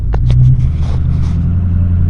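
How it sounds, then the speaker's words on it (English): A loud truck engine with a straight-pipe exhaust rumbles heavily up close, a low, steady idle throb with a few sharp crackles early on and no talking. "I know this truck is kind of loud, so I'll probably have to talk loud so you can hear me over the engine."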